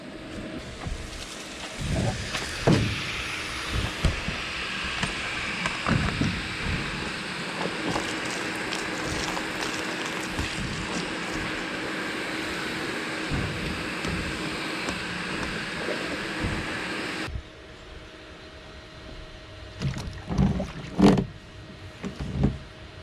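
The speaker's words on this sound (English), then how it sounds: "So let's go ahead and turn this pump on." A small submersible pump dropped into a pond draws water through a hose to fill a swimming pool, giving a steady continuous whirring and splashing rush that runs for most of the stretch, then cuts down near the end as a few louder knocks follow.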